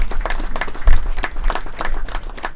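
An audience at an NGO expo and winter school in Zimbabwe gives a round of applause for the event's supporters, with loud, lively clapping in close rhythmic bursts throughout.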